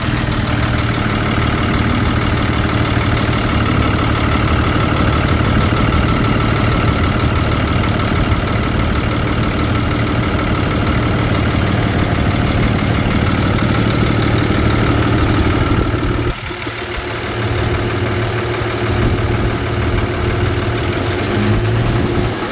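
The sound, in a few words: 2013 Ford F-750 Altec bucket truck engine started and idling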